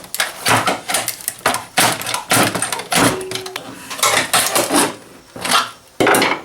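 A pry bar scrapes, grinds and knocks against the riveted metal casing of a surge protector being levered apart, in loud, rasping bursts close by with irregular metallic clanks.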